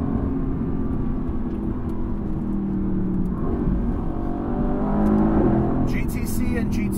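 A 2020 Mercedes-AMG GT C engine pulls under acceleration as heard from the cabin, with a steady low rumble that rises in pitch through the run, while a person talks over it.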